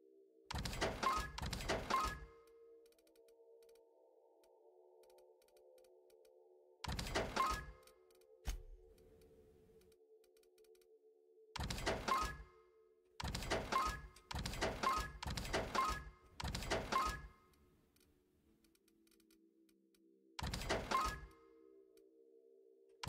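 Selling junk from the inventory in the video game The Outer Worlds gives repeated short, crisp mechanical clunk-and-rattle bursts. They come singly and in quick runs against a quiet low hum, with no talking.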